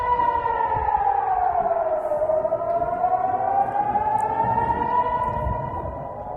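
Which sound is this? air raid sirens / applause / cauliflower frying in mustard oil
air raid sirens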